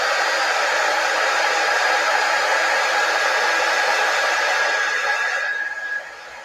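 A hair dryer blows steadily and loudly on painted scrap wood bunnies, a constant whooshing hum that drops off near the end as it switches down.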